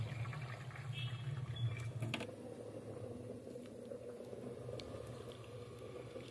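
Chopped carrots are swished and rinsed in water, giving a faint steady watery slosh and patter with a low rumble, close and continuous with no talking.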